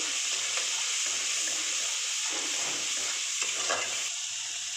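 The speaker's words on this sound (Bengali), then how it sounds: "এবার মশলাটাকে ভালো করে কষিয়ে নেব" Ginger and chicken masala sauté in hot oil with a steady, close sizzle that stays even throughout, broken by a few faint stirring scrapes.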